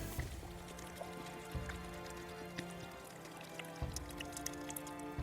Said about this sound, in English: so we are gonna have to cut it with a little bit of water